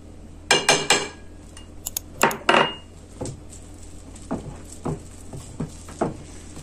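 Cookie dough with starch being mixed in a bowl, with a spoon or utensil knocking and clinking against the sides in irregular bursts. The strokes are close and moderately loud over a quiet room.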